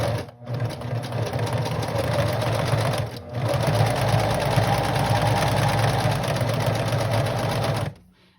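Sewing machine stitching steadily around a fabric owl, a close, continuous motor whir with a brief pause near three seconds before resuming and stopping near the end.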